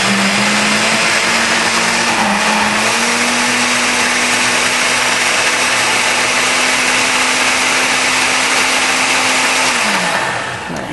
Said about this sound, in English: all we have to do is blend that.